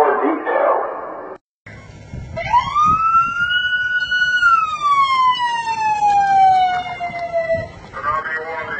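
A tsunami warning siren wails in Kodiak, Alaska, one long rising and slowly falling tone, loud and steady, with an amplified voice announcement heard before and after it.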